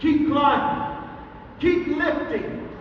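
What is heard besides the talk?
No distinct noise like a dog, phone or traffic.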